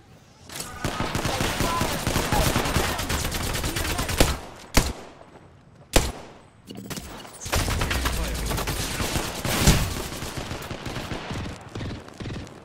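Rapid bursts of gunfire in Apex Legends, sustained volleys with brief gaps and a few sharp single shots, loud and close, with faint in-game voice callouts mixed in.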